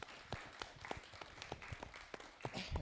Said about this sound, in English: So give them a little applause